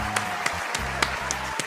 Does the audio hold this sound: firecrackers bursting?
no